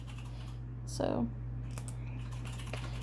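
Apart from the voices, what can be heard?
typing on a computer keyboard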